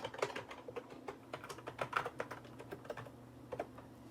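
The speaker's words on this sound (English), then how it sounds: "we'll type in administrator, and we'll type in our password" Fingers type on a computer keyboard at close range, producing an irregular run of quick, crisp key clicks over about four seconds with no voices.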